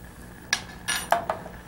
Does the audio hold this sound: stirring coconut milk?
yes